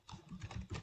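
Keys tapped on a computer keyboard while entering Python code, a short run of soft, close clicks in uneven bursts with no voice.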